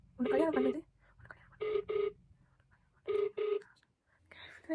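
An outgoing phone call in a Tamil prank call rings back faintly as a repeated double-ring pattern, three paired bursts spaced about a second and a half apart over quiet line hiss.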